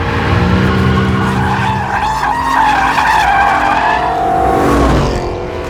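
A BMW E90 M3's 8,400 RPM V8 wails loud and near, with tires squealing in a sustained, rising and falling howl while the car is driven hard, no voices.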